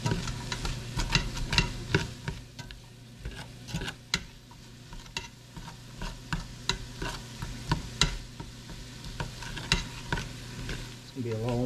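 A spoon stirs a pot of homemade extra-meaty spaghetti sauce, producing a run of soft, rhythmic scraping and knocking strokes over a low bubbling simmer, fairly quiet and close.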